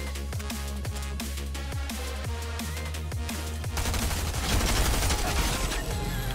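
Rapid bursts of automatic gunfire in a Fortnite-style video game, loud and close, with rhythmic repeating shots that thicken into a dense continuous barrage toward the end.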